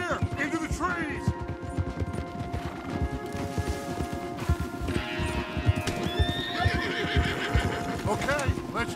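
Horses gallop in Red Dead Redemption 2 with a steady rolling clip-clop of hooves and occasional whinnies and snorts, moderately loud, while game music and voices carry on over the hoofbeats.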